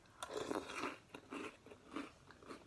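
Crunchy chocolate chip cookie soaked in milk being bitten and chewed up close, a series of distinct crisp crunches repeating in an uneven rhythm, fairly quiet with no talking.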